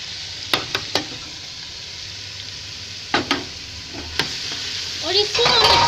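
Spices for harees roasting in a pot, a soft continuous sizzle broken by sharp clinks and scrapes of a spoon against metal, then a louder crackling burst at the end, heard up close.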